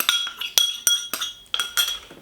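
A utensil stirs melted coconut oil into vegan cookie mixture in a bowl, giving a series of sharp clinks against the bowl at an uneven rhythm, about eight distinct knocks, close and clear.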